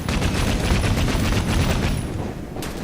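Rapid gunfire in the video game Assassin's Creed Syndicate, a loud continuous fusillade of shots that fades out toward the end of the burst.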